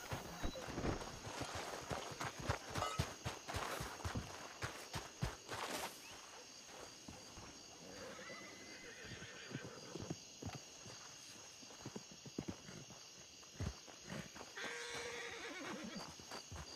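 Video game horse walking with steady clip-clop hooves and occasional whinnies, mixed with game music and ambience; faint talk in the background.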